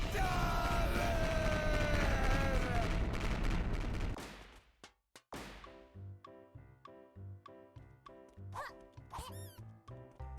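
Rapid cannon fire in a video game, loud crashing blasts at first that give way to a string of sharp, evenly spaced booms with short gaps between them.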